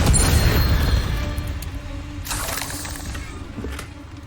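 Spell blasts in the Hogwarts Legacy video game, fire and explosive curses bursting with a heavy boom at the start that rumbles into noisy crackling hiss, followed by a second softer burst and fading rumble, with no talking.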